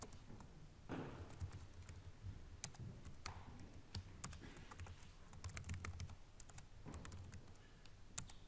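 Quiet typing on a computer keyboard while coordinates of a point are entered, a steady patter of light key clicks with occasional sharper taps throughout.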